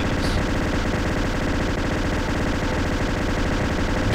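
Weapon gunfire in the video game Halo CE, a dense continuous automatic burst that runs loud and unbroken through the whole stretch without pause.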